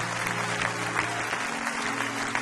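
A church congregation at a Sunday service claps steadily for a couple of seconds, a dense wash of many hands filling the room.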